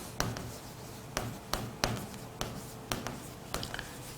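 Marker or chalk taps and strokes on a board during a chemistry lesson on surface chemistry, a series of faint, sharp clicks spaced irregularly over a quiet room hum.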